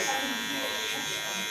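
Electric hair clippers buzz steadily through thick hair during a textured buzz-cut fade on the neckline, a constant close hum with no breaks.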